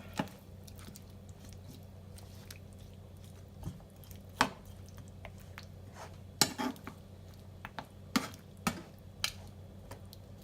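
Lamb steaks being stirred together with homemade barbecue sauce, giving scattered utensil clinks and taps against the dish over a low steady background hum, close and fairly quiet.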